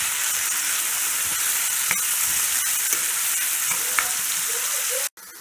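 Pieces of ginger and garlic fry in a pan for lamb chukka with a steady close sizzle, a few light stirring clicks, and an abrupt cutoff near the end.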